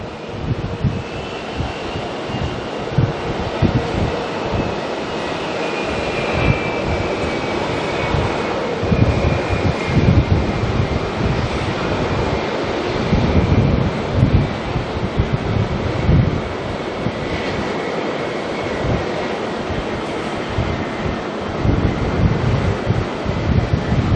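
A China Airlines Airbus A350-900 departing Auckland Airport for Brisbane, its engines giving a steady, broad jet roar with a faint whining tone and gusting wind noise across the microphone, sustained and moderately distant throughout.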